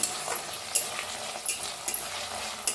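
Masala with onion and chopped tomato roasting in a pan while being stirred, a soft sizzle broken by periodic spoon scrapes and taps at a close, quiet level.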